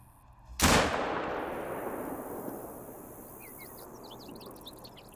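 A single sharp 7mm rifle shot fired at distant game rings out loud and close, followed by a long rolling echo that fades slowly, with faint birds chirping afterward.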